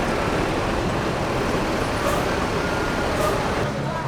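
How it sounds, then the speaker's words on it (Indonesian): A Sembodo intercity bus being parked at a rest stop, a steady loud engine drone and traffic-like roar throughout, with a couple of faint brief hisses like air brakes. "Dapat diparkirkan rapi bus ini."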